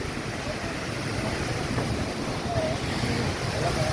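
Strong rushing water roars steadily at a site in Baguio City, a loud continuous wash with wind buffeting the microphone throughout and no clear breaks.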